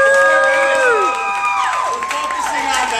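Live audience at a comedy roast birthday event bursts into loud, sustained cheering, whoops and applause, a dense crowd roar with rising shouts filling the room throughout.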